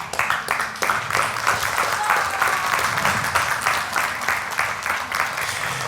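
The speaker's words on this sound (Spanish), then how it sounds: "Que esos aplausos sean para la gloria de Dios." A church congregation bursts into steady, rhythmic applause, many hands clapping together at close range, continuing evenly throughout.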